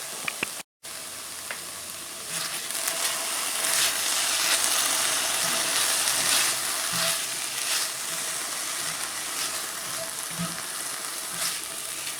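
Garlic sizzles in a hot pan with a steady, dense frying hiss that goes on throughout, broken by a few soft stirring clicks and one brief dropout near the start.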